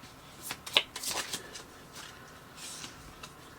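Tarot cards shuffled by hand in a few quick riffling bursts, crisp and close, with quieter gaps between them and no talking.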